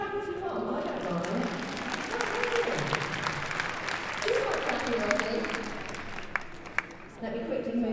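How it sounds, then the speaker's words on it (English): Audience applause rises at a Crufts dog show training demonstration, a steady dense clapping that carries on under someone talking and fades near the end. "You can clap if you want, I don't mind"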